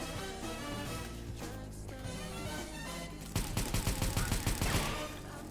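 Rapid video-game gunfire while shooting at a box, a dense burst of loud shots over steady game music and background sound.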